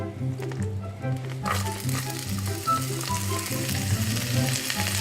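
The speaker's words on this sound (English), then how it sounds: "So first we add this" Chopped onion hits a hot pan and sizzles loudly, a steady crackling fry that continues throughout, with faint stirring noises and no talking.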